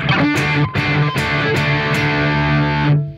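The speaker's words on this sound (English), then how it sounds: "I still get all that like distortion without it having the like screechiness" An electric guitar runs through a fuzz pedal and gives a thick, saturated distortion without harsh screech, as several strummed chords ring out loud and sustained, each attack sharp and close.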